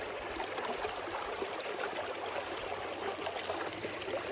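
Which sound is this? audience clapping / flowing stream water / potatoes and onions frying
flowing stream water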